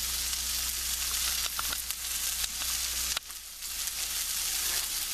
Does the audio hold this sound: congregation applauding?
no